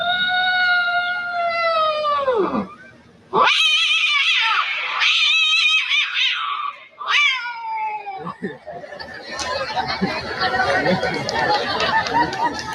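A mimicry artist uses his voice to imitate cats fighting at midnight, with long wailing yowls that slide in pitch, followed by harsh, snarling caterwauls and spitting, and an audience seems to murmur near the end.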